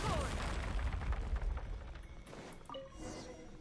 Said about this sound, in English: Yep, it was a bomb.